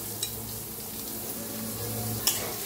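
Onion cooks in hot oil with cumin seeds for an egg masala dish, giving a soft, steady sizzle close by, with a couple of light clinks from a spoon against the pan.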